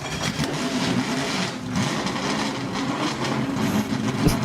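A 1988 Lotus Spirit Turbo starting up in the driving game Driving Empire gives a steady, rough, clattering engine drone that holds for several seconds, close and fairly loud, with no talk over it.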